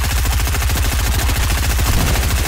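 Rapid, dense automatic gunfire from a battle royale video game, loud and continuous, with overlapping shots at a steady fast rhythm filling the whole stretch and no talk.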